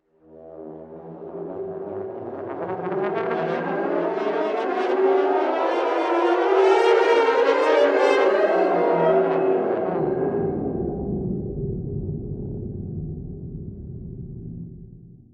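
A long, deep, warped brassy tone from a solo brass fall effect, reversed and down-tuned 12 semitones, swelling and sliding in pitch with a smeared alien quality, fading out at the end.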